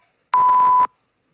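A broadcast censor beep covers a shouted slur at an awards ceremony: one clean, steady electronic tone lasting about half a second, loud and alone between stretches of silence.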